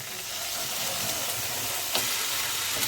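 Onion frying in hot oil with ginger-garlic paste and whole dried red chillies added, giving a steady, close sizzle and hiss with a faint stir or two and no talking.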